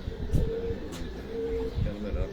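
Pigeons coo in low, repeated throaty phrases at a pigeon-flying event, moderately close, with people talking over and around them.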